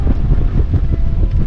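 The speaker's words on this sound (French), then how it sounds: "On a 28 nœuds, 30 nœuds dans les rafales." Strong wind gusting at 28 to 30 knots at sea off Saint-Martin, a loud, close, low-pitched buffeting roar of wind across the microphone that continues without a break.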